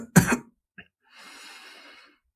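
A single sharp, close cough bursts out in an ASMR yandere roleplay scene, followed by a brief catch of breath and then a long, soft exhale or sigh.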